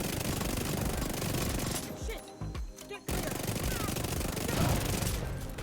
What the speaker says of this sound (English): This is the boss we're shooting at.